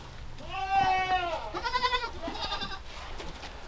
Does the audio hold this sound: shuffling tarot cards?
no